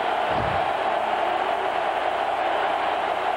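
Roaring stadium crowd at a 2000 college football game, Arizona at Oregon, a loud, continuous wall of cheering and yelling that never lets up, with a brief low thump near the start.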